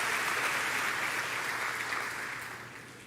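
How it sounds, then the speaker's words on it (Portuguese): A church congregation claps together in sustained, dense applause during a worship service, loud and even throughout before tapering slightly toward the end, with no voices over it. "dá uma salva de palmas aí"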